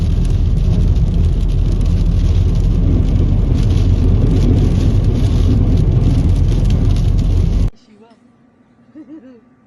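Heavy rain drums steadily against a camper van for most of the clip over a low road rumble while driving in Spain, then cuts off abruptly; quiet talking follows near the end.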